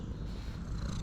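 A tuxedo cat purrs close up, a soft continuous rumbling with no voices over it.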